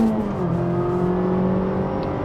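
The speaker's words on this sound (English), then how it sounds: "Going from third to second gear, flooring it" A Mazda Miata engine heard from inside the car, revving steadily and climbing in pitch under full throttle after a downshift from third to second gear, a loud continuous drone with no talk.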